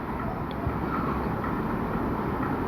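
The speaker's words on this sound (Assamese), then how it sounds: "এয়া ষ্টাৰ্ট হ'ল ট্ৰেইনখন, গৈ আছোঁ আমি।" A small toy train ride in a city park starts up and rolls along, giving a steady, fairly loud rumble of wheels and motor with no voices over it.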